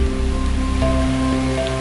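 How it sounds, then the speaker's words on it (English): Rain begins falling on a tropical island beach at Kapas Island, a steady, loud broadband hiss with a low rumble of surf beneath, no voices. "As you can see, the rain has started."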